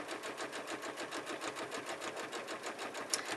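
A sewing machine runs steadily while stitching a small cotton quilt with cotton quilting thread, its fast, even whir and rhythmic needle patter continuous and close, with no talk over it.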